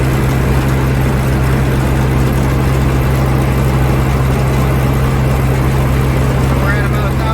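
A 4400 combine engine running steadily a little under 1000 RPM, a loud, constant low drone up close with a persistent hum and no breaks.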